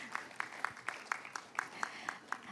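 Light, sparse clapping from an audience at the close of an online or conference session on open science and AI, individual claps spaced fairly evenly and fairly quiet, with a faint voice in the background.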